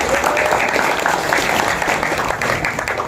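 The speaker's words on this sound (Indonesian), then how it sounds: "Tepuk tangan dulu semuanya." A room of people at a club leadership election meeting in Batam claps together in sustained, dense applause that holds steady at a fairly loud level throughout.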